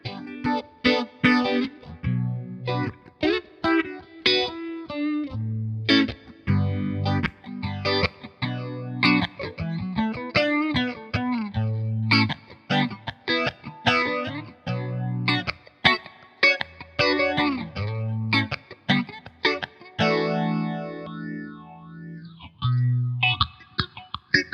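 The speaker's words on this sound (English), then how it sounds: "As I move to the PH2 with its 10 and 12 stages of phasing, see if you can hear how the sound narrows a lot more." Electric guitar run through a PH2 phaser pedal set to 10 and 12 stages of phasing, a narrow, thin and heavily processed synth-like tone over a busy, continuous riff of picked notes and chords, played loud and alone.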